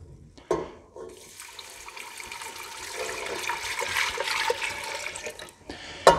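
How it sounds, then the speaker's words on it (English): Warmed milk, four cups, poured into a flour and butter roux for jalapeño bacon mac and cheese, making a steady rushing, splashing stream that builds for several seconds, fairly close and heard alone. "now I'm going to take my milk that I warmed through, 4 cups, and I'm going to pour that in to the roux"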